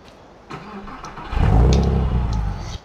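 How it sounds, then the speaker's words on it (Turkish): A Mercedes car's engine exhaust in the Farming Simulator 15 video game: the engine starts with a short crank, then revs up to a loud, close roar before settling back, with no talking. "Şu egzozun sesi."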